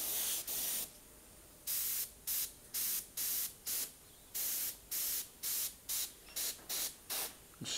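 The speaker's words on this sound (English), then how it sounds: "Smoke and soft shading, so easy to do with an airbrush compared to a brush." Airbrush spraying paint in short repeated bursts to build soft smoky shading on a totem pole, about a dozen hissing sprays of half a second to a second each, separated by brief pauses, close and clear with no talk.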